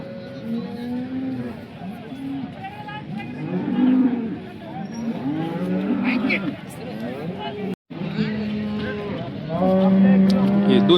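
Jersey cows at the Sangola cattle market in Maharashtra low repeatedly over a busy crowd, with steady chatter and vehicle noise around them and people talking nearby.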